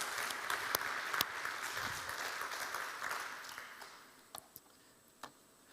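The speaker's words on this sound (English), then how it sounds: "A big hand of applause for Professor Dastic." A seminar audience at a poultry trade fair claps in a steady burst of applause for a speaker that gradually thins out into a few scattered claps.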